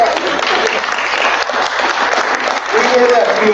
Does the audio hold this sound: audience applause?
yes